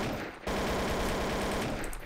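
Rapid automatic fire from a placed turret in Trouble in Terrorist Town, a sustained mechanical burst of shots running close and loud after a brief quieter start.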